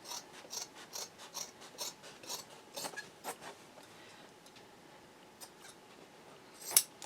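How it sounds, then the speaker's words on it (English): Scissors snip through several layers of quilted fabric and a zipper on a machine-embroidered boxed bag, a fairly quiet series of crisp, rhythmic cuts that slow toward the end, with a sharper click near the finish and no talking. "Now this is where I'm cutting through all those other layers"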